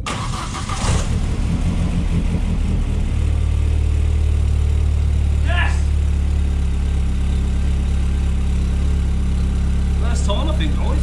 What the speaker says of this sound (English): we'll go for the first start now and listen to the exhaust blow